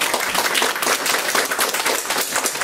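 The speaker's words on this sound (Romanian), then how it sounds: "O mai felicit încă o dată și o aplaud." Brisk, dense applause for the author at a book launch, loud and close with rapid overlapping claps and no talk over it.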